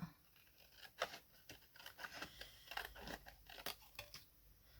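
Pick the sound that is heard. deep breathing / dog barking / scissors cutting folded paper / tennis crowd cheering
scissors cutting folded paper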